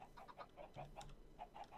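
Faint, soft clucks from Minecraft chickens pop up several times in quick succession over low game ambience, with no talking.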